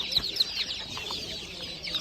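Chicks for sale at the Kolomyia animal market in Ukraine, high thin peeping calls repeating in short bursts over a soft background of market noise, fairly close and steady with no talk.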